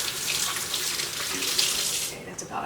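Water runs steadily from a kitchen tap while hands are washed during pork chop preparation, a close, continuous hissing splash that stops abruptly near the end.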